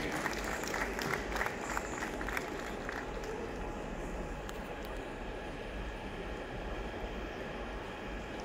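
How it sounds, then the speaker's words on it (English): Sustained applause from a crowded hall at a national award ceremony in Nigeria, a dense steady patter of clapping lasting throughout with no talk over it. "A round of applause for Pierre Vandebeeck"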